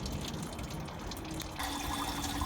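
Coolant pours and trickles out of a Lexus LS400-family radiator during a radiator swap, a steady watery splash that thickens and grows a little louder partway through, close by and without talk.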